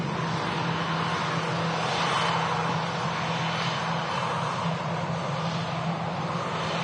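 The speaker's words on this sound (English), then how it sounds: "The EasyJet classic A320 here, rocking them big old sharklets." An EasyJet classic Airbus A320 with sharklets at Manchester Airport gives a steady, loud engine roar with broad rushing noise that holds evenly throughout, unaccompanied by talk.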